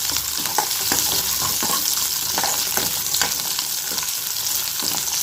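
Steady, loud sizzling of chopped ginger frying in a hot pan for paneer butter masala, with occasional crackles and stirring scrapes throughout.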